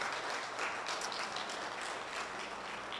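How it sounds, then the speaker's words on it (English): Audience applause for a professor after a talk on education, work and economic growth, a steady, dense wash of many hands clapping that holds evenly for the full three seconds with no speech over it. "Could we give the professor another round of applause?"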